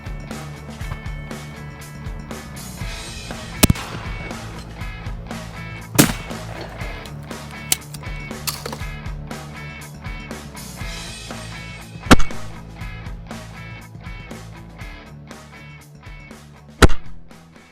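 Four widely spaced, sharp shotgun reports from a Blaser F3 firing at clay targets stand out over a busy outdoor background of shuffling and handling noise.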